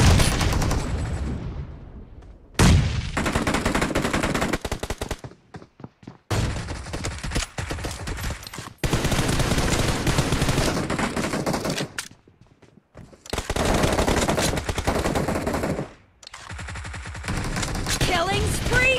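Bursts of gunfire in the PUBG battle royale video game, loud dense volleys in several blocks separated by brief gaps, with game voice lines faintly mixed in.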